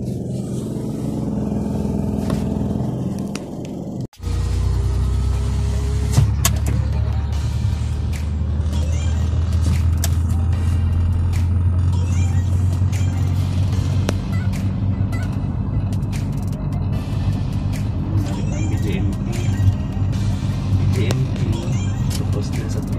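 Traffic on a highway behind a regional government center, a steady rumble of passing vehicles heard from close by under a person talking, with a brief cut partway through.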